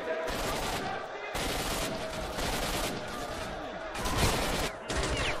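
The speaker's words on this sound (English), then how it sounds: "How is he shooting me from there?" Bursts of automatic gunfire from a STALKER shooter game, rattling in several sustained volleys with short gaps between them, loud and close.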